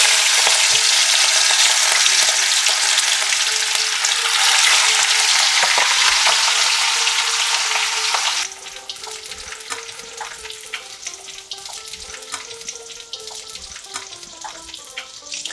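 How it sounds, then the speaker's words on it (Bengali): Rohu fish pieces frying in hot mustard oil: a loud, dense sizzle and crackle for the first half that then settles to a quieter, steady spatter close by, no talking. "তেল গরম হয়ে গেছে, মাছ ছেড়ে দিচ্ছি।"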